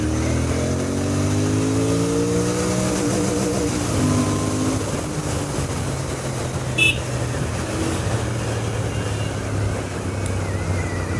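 Royal Enfield Interceptor 650 motorcycle pulling hard in first gear, its engine note rising steadily in pitch over the first few seconds and then holding a continuous loud drone with wind and road noise.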